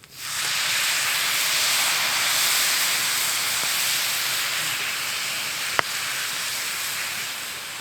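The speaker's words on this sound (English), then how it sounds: "Now we're just adding a little beer." Beer poured into a hot pan over a winter campfire sizzles into a loud, steady hiss of steam that holds for several seconds, broken by a couple of faint clicks.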